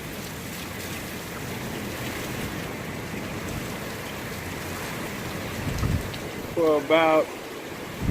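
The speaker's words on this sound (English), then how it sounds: "Wind has been blowing like this." Hurricane Irma's wind and rain in Miami Lakes, Florida, in 2017 roar as a steady, heavy wash of noise, and someone speaks briefly near the end.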